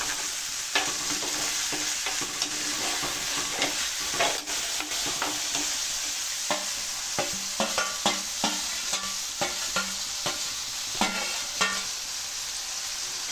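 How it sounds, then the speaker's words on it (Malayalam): Garlic and curry leaves sauté in hot oil for a horse gram curry, with a continuous loud sizzle and repeated close scrapes and taps from stirring. "വെളുത്തുള്ളി ഇട്ടു, കറിവേപ്പില ഇട്ടു. അത് നല്ലോണം വഴറ്റുവാണ്"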